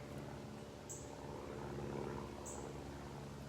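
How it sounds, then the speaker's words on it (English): Faint propeller airplane droning overhead in the distance, a steady low hum that swells slightly, with a couple of brief high chirps. "We got planes flying around."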